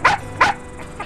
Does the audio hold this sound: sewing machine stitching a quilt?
no